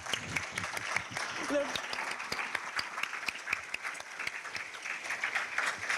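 Audience applause following a keynote at the Python Brasil conference, steady and moderately loud, continuing for several seconds with a faint voice briefly audible beneath it.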